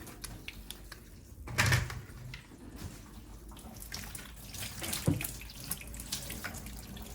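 Tap water runs into a kitchen sink while food is rinsed, a steady moderate flow with brief splashy surges and light knocks of the item against the basin; no talking.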